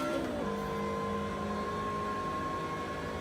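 A race car engine held high against the rev limiter in Assetto Corsa during sim practice at Canadian Tire Motorsport Park (Mosport), a loud, steady, buzzing high-rpm drone that barely wavers, with no talk over it.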